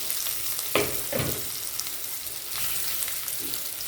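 Boiled, cut tapioca pieces sauté in a pan with a soft, steady sizzle, broken by a few sharp scraping stirs from a utensil, heard close and fairly quiet.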